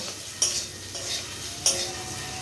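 Onion and garlic fry with a steady crackling sizzle close by, broken by two sharp utensil scrapes and stirs against the pan, with no one speaking.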